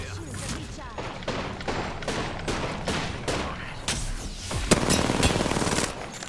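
A series of loud, sharp Wingman pistol shots in Apex Legends, fired in quick uneven bursts with some close impacts, while a player talks over the action.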